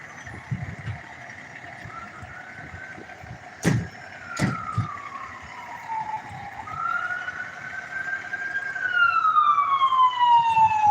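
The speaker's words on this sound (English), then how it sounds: "Now we have an ambulance." An ambulance siren rises and falls, distant at first and then louder as it approaches. Two sharp knocks sound midway, and traffic murmurs underneath.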